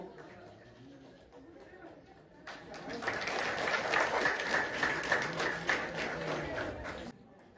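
A voice speaks, then a crowd breaks into a burst of applause lasting several seconds before it stops abruptly, at a primary school anniversary celebration.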